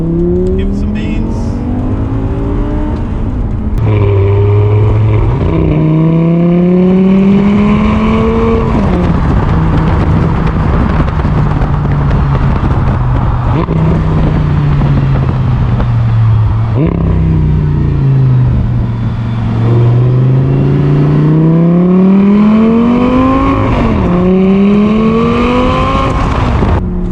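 Audi R8 V10 engine revving hard after paddle-shift downshifts, loud rising and falling howls in repeated surges up close, with brief drops between gear changes as someone talks over it.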